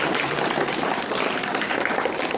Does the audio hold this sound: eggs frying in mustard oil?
no